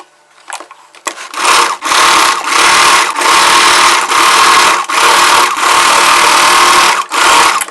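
Sewing machine stitching a frill onto the back side of a churidar bodice, running in several steady bursts of rapid mechanical whirring with short pauses between them, close and loud.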